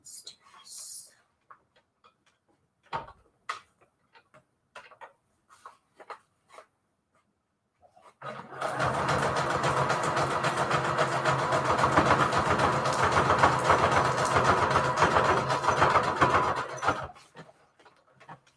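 A steady mechanical whirring drone of a sewing machine stitching a junk journal runs for about nine seconds, loud and close, after scattered soft clicks and handling noises.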